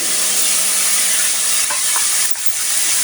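Dried prawns frying in a pan until they turn brown, a steady close sizzling hiss with faint stirring scrapes and no voices.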